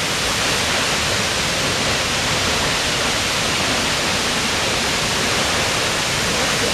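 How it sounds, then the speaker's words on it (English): Seljalandsfoss waterfall in Iceland roaring close by, a dense, steady broadband rush of falling water that stays loud and unchanging throughout with no voices. "We're gonna go back behind this waterfall."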